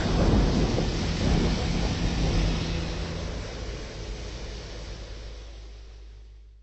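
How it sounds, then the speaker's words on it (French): A thunderstorm rumbles with a long, loud roll of thunder over steady rain, the deep boom slowly fading away toward the end. "Il y eut des éclairs, des voix, des tonnerres, un tremblement de terre et une forte grêle."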